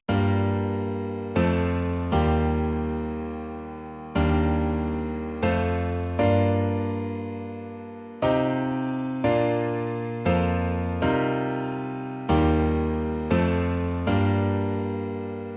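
A synth plays a sequence of full, rich chords, each one struck and decaying before the next, in a steady rhythmic progression with no voices.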